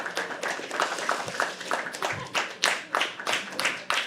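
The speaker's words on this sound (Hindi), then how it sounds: "अरे ताली बजाते रहो. I'll clap with y'all." Audience at a live poetry open mic clapping in a steady rhythmic beat, many hands together in regular pulses, close and lively, with a few voices faintly mixed in.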